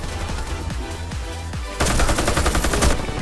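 A Type 97 rifle in Warface, a first-person shooter, lets off a few spaced shots and then a fast, loud, close automatic burst, with no talking.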